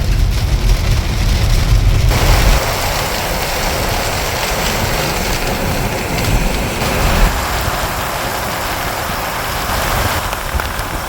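Rain drums steadily on a moving car, a dense, loud hiss of drops over a low engine and road rumble that shifts in tone a couple of times as the car travels, with no one speaking.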